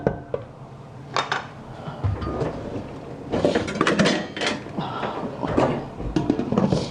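A pot of Filipino beef kaldereta being covered with its lid before simmering, several loud metallic clanks and clatters of lid and cookware close by across a few seconds, with quieter rattles between.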